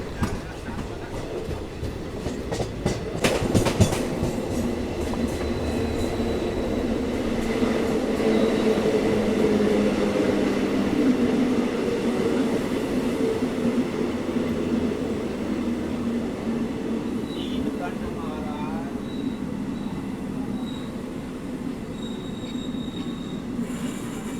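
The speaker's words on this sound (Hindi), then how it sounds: "ये रही Rewanchal superfast express, one of the top priority train है अपने रूट की" The Rewanchal Superfast Express rolls past on an Indian railway line in Madhya Pradesh, with a steady, loud rumble of wheels, rail clatter and a brief squeal. A voice is heard faintly underneath.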